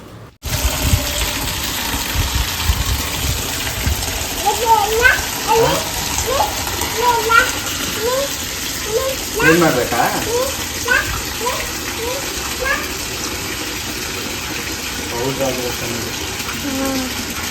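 Water spraying steadily over a car during washing outdoors, a continuous broad hiss with splashing, while people talk intermittently in the background.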